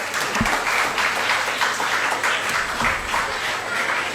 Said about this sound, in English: Motivate them by giving your claps, audience.